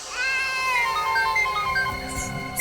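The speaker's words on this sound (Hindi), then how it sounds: "एसीपी साहब का फोन।" A phone rings with a bright, warbling electronic melody, loud and close, running steadily throughout with no talk over it.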